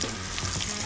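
Fresh scallops sear in a hot pan during a timed cooking competition, giving a steady, close sizzle and spit of frying throughout the short moment, with no voices.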